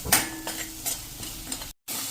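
Masala and paste frying on a slow flame in a pan, a soft continuous sizzle broken by a few sharp stirring scrapes, close and fairly quiet, with no talk.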